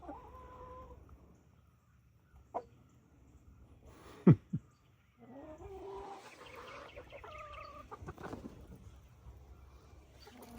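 Hens cluck and squawk in short bursts, with a sharp louder call midway, then a stretch of busier clucking close by.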